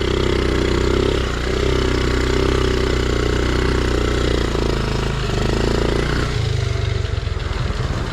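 A Honda 50R dirtbike engine runs steadily close by on a slick outdoor surface, a continuous buzzing idle with slight rises and dips in pace, before settling lower near the end.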